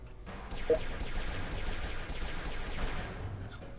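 A dense burst of rapid gunfire in the video game Fallout Shelter, continuous rattling shots for several seconds, loud and up close with no talking.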